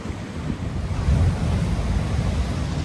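Sea waves wash continuously onto the shore during a storm, a steady roaring surf with heavy wind buffeting the microphone.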